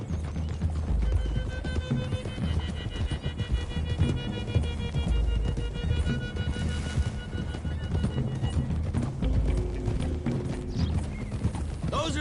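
Several horses gallop hard in Red Dead Redemption 2, a dense drumming of hooves with snorts and a neigh, loud and continuous over a steady music bed, with no talking.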